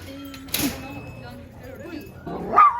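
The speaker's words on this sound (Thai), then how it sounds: "ใครมาก็เห่าเขา" A dog barks and yips at an American dog park, with a sharp bark near the start and higher yelps toward the end, while a person talks over the scene.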